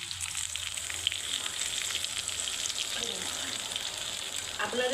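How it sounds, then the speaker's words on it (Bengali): Chicken and spices in a pan for chilli chicken, hissing and sizzling steadily after water is poured in, close and continuous with faint stirring, no voices. "জলটা দিয়ে দেবো।"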